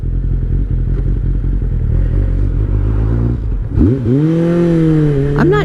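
A 2003 Kawasaki ZR7S motorcycle engine idles close and loud with a steady, throbbing low rumble, then briefly rises in pitch with a short throttle blip near the end.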